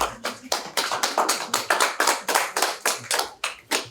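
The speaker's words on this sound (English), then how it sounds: "Let's give them a nice round of applause" Applause at a public afternoon talk on medical marijuana: close, crisp hand claps repeat in a brisk, even rhythm for a few seconds, with no voices over them.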